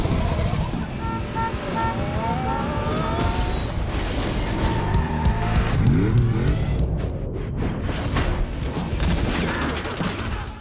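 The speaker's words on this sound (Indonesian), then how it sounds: "mobil tersebut menabrak sebuah bus yang sedang mogok, sehingga memberikan waktu untuk Grom melakukan pengejaran." Film car chase in which a fleeing car smashes into a broken-down bus: dense, loud roar of racing engines and tire noise with bursts of crashing impacts and revving throughout.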